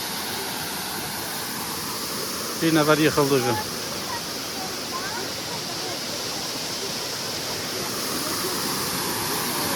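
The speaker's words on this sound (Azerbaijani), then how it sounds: "Əziz izləyicilər, bu da bizim ilk şəlaləmiz." Steady broadband rush of a waterfall near Avyarud village in Astara, a constant close roar filling the whole stretch, with a brief burst of voices partway through.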